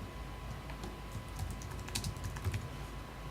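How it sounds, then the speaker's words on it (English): Computer keyboard keys are tapped in a short irregular burst while a keyboard shortcut is entered, close and moderately quiet over a low steady hum. "We'll do a keyboard shortcut"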